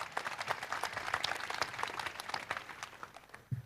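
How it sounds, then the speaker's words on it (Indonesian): Audience applause at an Indonesian public talk on reform, for Oki Mandasari: a fairly faint but steady wash of many hands clapping, thinning out toward the end with a low thump at the close. "Tepuk tangan dulu buat Oki Mandasari"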